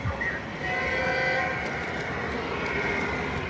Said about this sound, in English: and here comes the train.